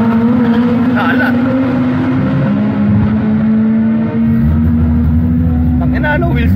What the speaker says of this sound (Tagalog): wheel spin the whole truck